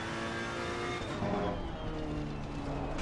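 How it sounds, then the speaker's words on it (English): A Ferrari race car engine in Assetto Corsa Competizione drones steadily at low revs with a faint whine, continuous and moderately close throughout. "the downshifts on the Ferrari are super late, like in the lowest of low RPMs."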